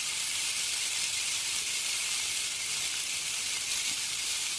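Country style ribs browning in a hot pan give off a steady, even sizzle, a continuous hiss with no breaks and no voices over it.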